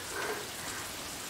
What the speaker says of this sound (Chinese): 你看今儿这大暴雨下得太突然了